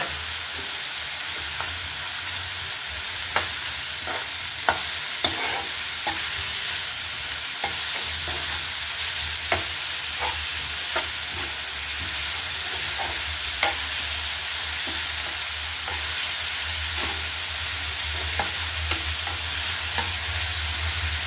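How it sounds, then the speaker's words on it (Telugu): Onions frying in a pan with salt and turmeric, a steady broadband sizzle throughout with scattered light clicks of a spoon stirring, close and alone with no talking. "కొంచెం ఉప్పు వేసేసుకుంటే ఉల్లిపాయలు తొందరగా వేగిపోతాయి"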